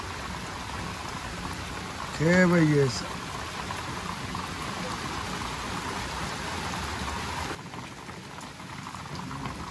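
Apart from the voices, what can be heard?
rain on a rainy day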